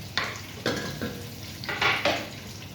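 Onion and tomato sauté in a pan for a chicken dish, a spatula stirring in several distinct scraping strokes over a steady close sizzle.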